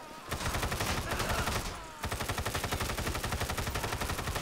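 Rapid automatic gunfire in a GTA 5 zombie mod game during a horde fight, loud and dense bursts of shots that pause briefly before resuming full auto.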